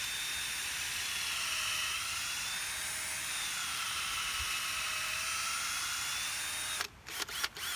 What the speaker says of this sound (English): When you drill your hole, you want to drill it at a slightly downward angle.